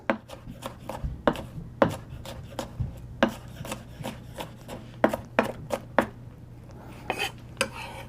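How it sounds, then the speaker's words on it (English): A kitchen knife roughly chops ingredients for chicken adobo on a board in a quick, uneven run of sharp, close knocks over a faint hum. "We're just gonna chop it off roughly."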